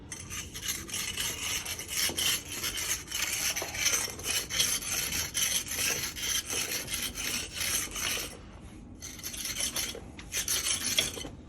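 A brush sweeping excess pointing mortar mix off a wall, heard as continuous close, rough scratchy strokes, with a brief pause near the end before the brushing resumes.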